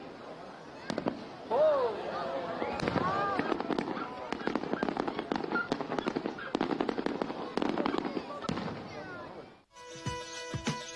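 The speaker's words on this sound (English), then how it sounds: "All we need now is tons and tons of fireworks." Fireworks burst over a Sicilian city in rapid, crackling volleys of sharp pops and bangs, heard from a distance with crowd noise and a brief exclamation, before the sound cuts abruptly to a different scene.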